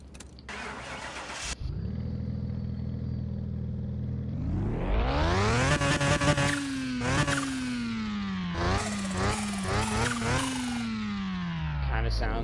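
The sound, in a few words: rotary engine of a car starting and revving, from a video game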